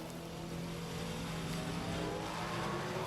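A NASCAR race car, rookie Scott Speed's, on a 2009 qualifying lap at Martinsville, its engine a steady distant drone under broad crowd and track noise, faint and continuous.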